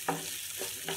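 Sliced onions frying in a pan for a bitter gourd fry hiss with a steady close sizzle, broken by two or three quick spatula strokes.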